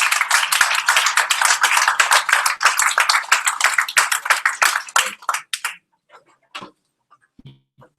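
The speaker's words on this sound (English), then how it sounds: "Please stand up and give him a round of applause." Audience applause from a seated group at a meeting: a dense burst of close, crisp clapping holds for about five seconds, then thins into a few scattered claps before falling silent.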